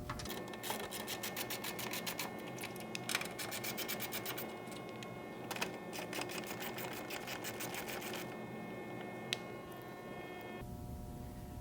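A ratchet with a 10mm socket loosens the headlight bolts on a Hyundai Tiburon, giving bursts of rapid close clicking with short pauses between them and no talk.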